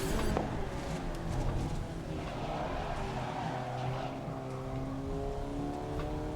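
Subaru BRZ race car engine in GRID 2019 drones steadily and loud throughout, a sustained revving tone with layered harmonics and no pauses.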